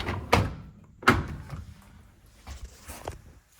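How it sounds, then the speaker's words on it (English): A dishwasher door swings open with a solid thunk, then a second clunk follows as the lower rack is pulled out, with faint rattling afterward in a quiet room. "So we're gonna open up the door. Then you're gonna pull the lower rack."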